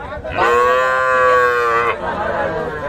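A single long, loud moo from a heifer calf rings out close by at a cattle market, with a faint murmur of crowd noise around it.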